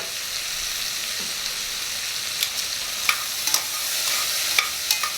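Sweet potatoes, carrots and onions sizzle in a soup pot with a soft, even hiss, broken by a few sharp pops and scrapes as they are stirred, close and moderately quiet.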